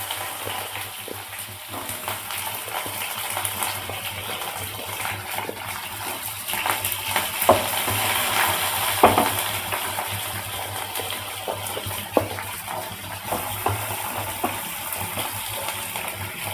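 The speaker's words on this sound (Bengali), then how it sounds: "এবার আমি এর মধ্যে পেঁয়াজ কুচিগুলো দিয়ে দেবো।" Chopped onions and spices sizzling in a pan while making pudina mint rice, a steady frying hiss with scattered stirring clinks and scrapes throughout.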